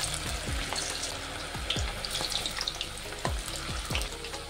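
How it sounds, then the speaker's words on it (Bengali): Snack sticks fry in hot oil in a wok, a steady close sizzle broken by several sharp knocks and clatters as pieces are turned and stirred. "একটু নেড়ে ছেড়ে আমি ব্রাউন করে ভেজে নেব"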